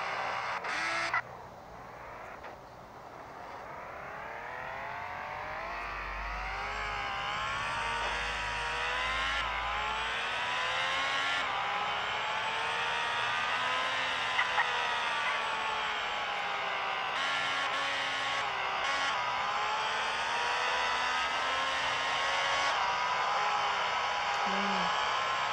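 A video-game car engine held in fifth gear gives a steady, loud, buzzing whine that climbs slowly in pitch and holds high and constant with a few brief dips, with no voices.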